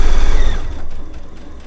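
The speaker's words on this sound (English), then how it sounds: "I want to stop my stitching a 1/4 inch away from the edge of my quilt sandwich" A sewing machine stitches a quilt sandwich with a quarter-inch seam, a loud dense mechanical whir that runs steadily and then slows and fades toward the end.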